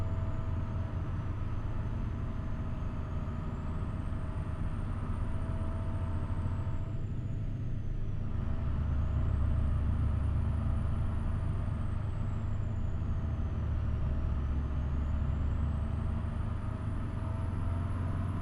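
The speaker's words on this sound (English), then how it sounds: "Boy, this bus is struggling." A bus engine straining under load in Euro Truck Simulator, a continuous deep droning rumble with a rising and falling whine above it, steady and close throughout, no speech.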